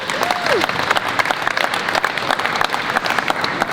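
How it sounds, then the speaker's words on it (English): Audience at an Equine Affaire Mustang demonstration applauds the Mustangs and their riders, a steady loud wash of hand claps from a sizable indoor crowd, with a brief voice rising over the start. "A round of applause, please, for the Mustangs and riders."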